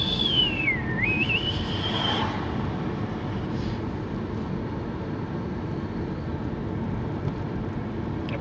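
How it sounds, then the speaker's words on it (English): A big turbo on a vehicle driving behind, a high whistle that rises, dips and climbs again over the first two seconds above steady road and engine rumble that continues afterward. "Something with a big turbo behind me because it's whistling away."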